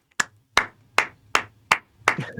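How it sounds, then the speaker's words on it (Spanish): Six sharp hand claps ring out at a steady, slightly uneven pace, each a crisp broadband burst with a short decay, fairly close, with a faint low hum underneath and no talking. "¡Aplaudí!"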